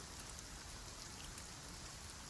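Steady rain falls on a greenhouse on an evening, a soft, even hiss of countless drops with no pauses and no voices.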